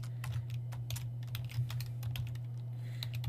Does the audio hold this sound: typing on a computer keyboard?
yes